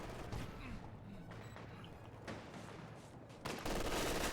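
Dense video game gunfire as partisan infantry fight in a multiplayer match, a continuous rattle of rifle and machine-gun shots with a louder burst near the end, faint and busy throughout.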